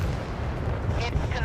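Warship guns in the video game Force of Warships boom against an enemy target, a rumbling low blast under a synthetic voice, with brief higher tones near the end.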